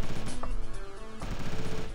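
Rapid gunfire aimed at the player in the video game Random Heroes 2, a fast stream of sharp electronic shots in a factory stage, with steady rhythm and a short break midway, no speech.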